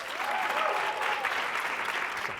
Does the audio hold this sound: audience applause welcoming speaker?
yes